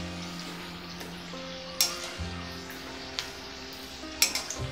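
Green pea karanji frying in hot oil, a soft, low sizzle close by with a few sharp clinks of a utensil against the pan.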